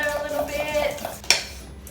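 Breakfast ingredients are mixed in a bowl, with a utensil ringing and scraping against it in a short clattering stir that ends in one sharp clink.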